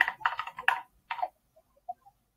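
Keys tapped on a computer keyboard during a software architecture coding lesson: a quick burst of several clicks followed by a short pause, another cluster, then a few faint isolated taps.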